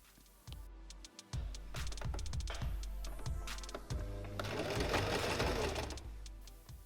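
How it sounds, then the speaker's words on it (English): A sewing machine stitches a plain seam, starting with a few slow rhythmic thumps and then running steadily with a fast, even mechanical chatter, close and continuous throughout. "We are going to sew our plain seam"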